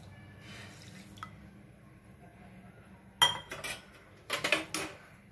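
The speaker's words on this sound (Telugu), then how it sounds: "వాటర్ యాడ్ చేసుకోవాలి." Water is poured into a pan on a stove to start jalebi sugar syrup, with quiet drips first, then sharp metallic clinks and clatters of the pan and utensils close by.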